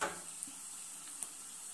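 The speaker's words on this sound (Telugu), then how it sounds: "ఇప్పుడు ఎండుమిర్చి వేద్దాము." Dried red chillies sizzle softly in hot tempering oil with a faint, steady hiss and a couple of small ticks.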